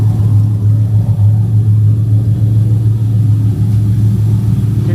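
A 1999 Pontiac Trans Am V8 idling with its exhaust reinstalled after drivetrain work: a loud, close, steady low rumble with a strong deep hum, no talk over it.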